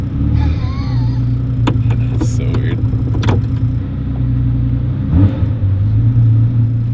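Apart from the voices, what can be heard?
Ferrari F40 engine revving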